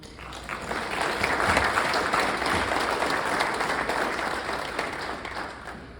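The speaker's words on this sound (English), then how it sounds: "I want to give you guys a round of applause." A crowd breaks into a round of applause at a community recognition ceremony, clapping swelling quickly, holding steady and loud for several seconds, then tapering slightly.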